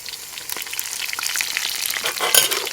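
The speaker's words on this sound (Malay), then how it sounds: "Tumis sehingga wangi dan bawang kepirangan. Letak daun kari terus berbau." Shallots, garlic and curry leaves sautéing in hot oil, a steady close sizzle with crackling pops that builds slightly toward the end, no voices.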